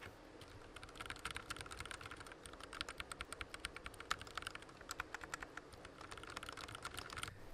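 Steady typing on an Evo Fox Katana Mini S keyboard, a dense run of quick keystroke clicks with no talking, fairly close.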